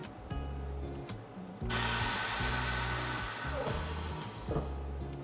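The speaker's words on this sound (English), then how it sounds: "In just a second, it's gonna take all the air out and then it'll seal the bag." A Meat Your Maker oilless chamber vacuum sealer pulls air from its chamber with a loud, steady motor roar and hiss that swells partway through and holds, under a faint pulsing background hum.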